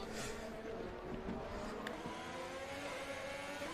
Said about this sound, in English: Oh, there's a lockup.